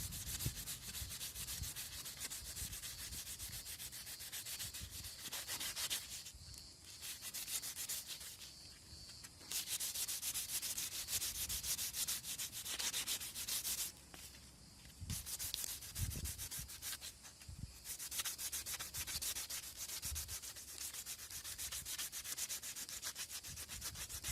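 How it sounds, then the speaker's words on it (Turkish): Light rubbing of sandpaper on a car headlight brow trim, a steady scratchy hiss in long strokes with a few brief pauses, close by. "Şöyle hafiften zımpara vurmanız yeterli."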